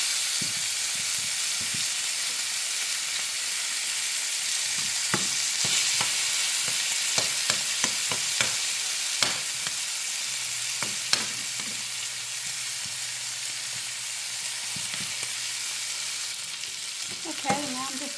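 Chuck eye steaks sizzling in butter in a pan, a loud continuous crackling sizzle with scattered pops and occasional utensil taps, no voices.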